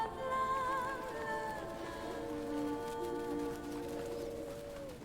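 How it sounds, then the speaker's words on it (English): Soft cooing bird calls in Final Fantasy IX drift over a steady ambient game soundscape with long sustained tones, continuous and moderately quiet throughout. "The birds are all drawn to that location"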